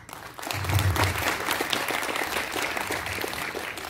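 An indoor audience at a book launch bursts into steady, sustained clapping that swells quickly and carries on evenly to the end, with no talk over it.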